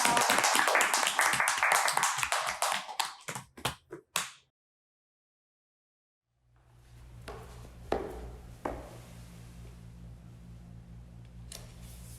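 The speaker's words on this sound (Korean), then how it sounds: "박수로 끝낼게요." An audience claps to close a stage segment at a university media and public relations festival. Dense, rapid clapping fades out over about four seconds, followed by silence and then quieter room noise with a few scattered taps.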